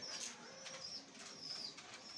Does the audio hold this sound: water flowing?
no